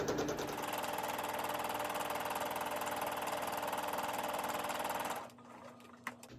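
A Janome sewing machine runs steadily, stitching fabric for a travel cup cozy with a fast, even mechanical whir, then stops abruptly and leaves a quiet pause broken by a single small click.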